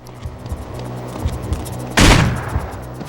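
Gunfire from the stealth video game Manhunt: a sharp, loud burst about two seconds in, standing out from a steady background of game ambience and low rumble, with smaller muffled pops around it.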